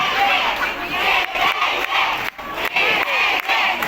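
A large crowd cheers and shouts loudly in repeated surging bursts, a dense wall of voices close around.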